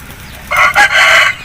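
An Aseel rooster crows loudly and close by, a rising call broken into a few strained bursts over about a second, with no talk over it.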